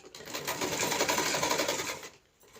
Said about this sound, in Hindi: यहाँ तक हमने इसको लेस को स्टिच कर लेना है